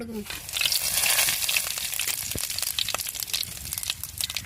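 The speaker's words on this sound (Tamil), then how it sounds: "எண்ணெய் சூடாயிருச்சுங்க கறி மசாலா பட்டை" Cinnamon and curry masala frying in hot oil in a pan for chicken curry, a loud close crackling sizzle that bursts at the start and settles into steady spitting and popping.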